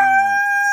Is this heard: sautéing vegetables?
no